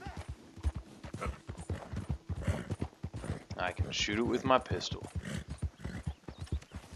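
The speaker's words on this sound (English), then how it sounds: "Look at all these horses over here." Horse hooves clip-clop in a regular rhythm from a Red Dead Redemption 2 herd, with a brief whinny midway, all running under steady close-up talk.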